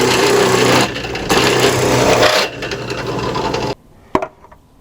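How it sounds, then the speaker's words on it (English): Saw blade cutting through the end of a deer antler, a loud close grinding rasp that holds steady with a couple of brief dips, then cuts off abruptly into near quiet with a small knock. "And now I want to cut this end of the antler because I have a hole on this side."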